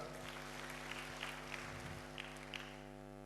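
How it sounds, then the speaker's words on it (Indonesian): A church congregation claps during a sermon, the applause faint and distant beneath a strong, steady electrical hum, with a few sharper hand claps standing out. "berikan tepuk tangan bagi Tuhan"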